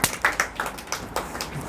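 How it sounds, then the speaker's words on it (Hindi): An audience claps for group B at a class session, with a quick burst of sharp, evenly spaced claps that ring out close and clear without talk. "ताली बजा दीजिए बी ग्रुप के लिए।"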